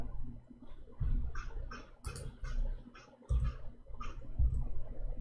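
Irregular clicks and taps from a computer keyboard being typed on, close and fairly quiet, in short uneven bursts with a low room hum underneath.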